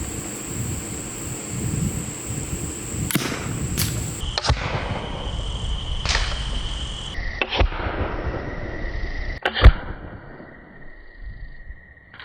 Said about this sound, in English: I took one last test with the cannon